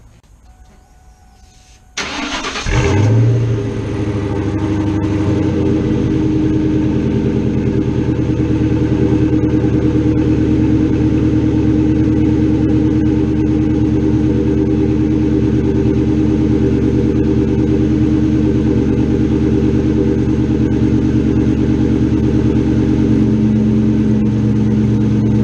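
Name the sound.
Ford Mustang 4.6L 2V engine cold start and idling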